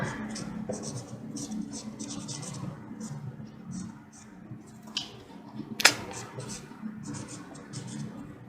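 Pen scratching across paper as a mnemonic is written by hand, quick bursts of faint scratchy strokes with short pauses, close by, and a voice speaking quietly in the background.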